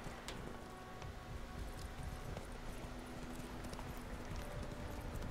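Horse hooves gallop in the video game The Witcher 3, a steady rapid clip-clop rhythm of moderate loudness over an ambient game background, with no talking.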